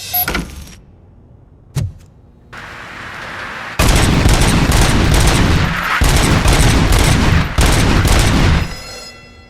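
Service pistol fired in rapid bursts in Robocop Rogue City during a weapon calibration check, loud close gunfire rattling in several clusters after a quiet stretch with a single earlier shot.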